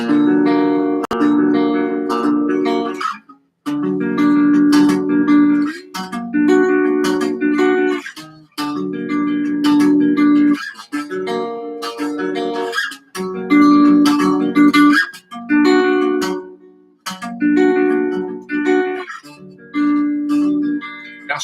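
Guitar chords on the bottom four strings ring out one after another in a steady strummed pattern, each chord sustaining before a brief gap, played up close with no talking.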